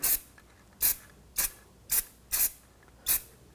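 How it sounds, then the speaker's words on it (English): A thin coat of anti-seize is brushed onto the rear hub surface of a 2021–2023 Jeep Grand Cherokee L, six short, even, raspy strokes at close range, evenly spaced with quiet gaps between them. No one speaks. "Now we're going to put a thin coat of anti-seize on the hub surface just to prevent some corrosion."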